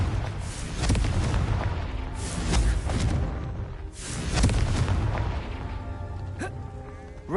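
A repeated Confringo explosion spell in Hogwarts Legacy bursts with loud, booming blasts several times in succession, each followed by a rumbling decay, with a brief sharp crackle near the end.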